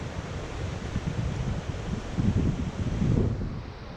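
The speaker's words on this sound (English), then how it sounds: "Some beautiful rapids here with a small waterfall." River rapids with a small waterfall give a broad, steady rushing roar on a windy lake-country river, with low rumbling surges and gusty wind noise over the flow, no voices.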